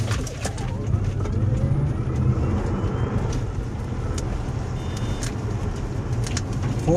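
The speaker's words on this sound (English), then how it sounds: "I can totally hear the tires spinning" A Tesla launches in launch mode on cold pavement with little traction, giving a continuous loud rush of road and drivetrain noise with tire roar and faint squeal throughout.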